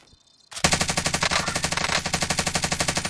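Automatic gunfire in Call of Duty Warzone, a sudden burst after a brief quiet start, then rapid, evenly spaced loud shots continuing without pause.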